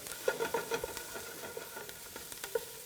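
Onions sautéing in a soup pot, a steady soft sizzle broken by intermittent scraping and stirring knocks from a utensil, close and fairly quiet, with no talking.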